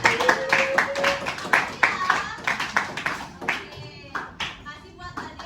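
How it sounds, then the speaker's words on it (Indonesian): Students in a classroom clap their hands together in a rhythmic pattern of sharp, close bursts, with children's voices calling out between the claps. "Oke, tepuk tangan."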